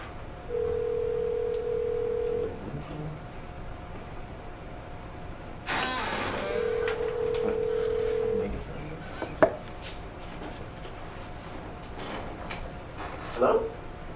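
A speakerphone in a school board meeting dials out, giving two steady electronic tones separated by a pause, followed by faint clicks and handling sounds in a quiet room.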